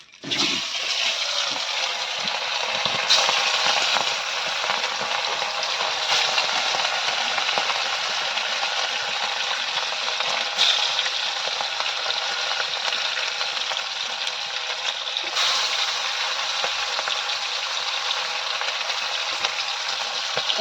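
Fish fries in a pan in a home kitchen, a loud, continuous bright sizzle that holds steady for about twenty seconds with only a few soft clinks.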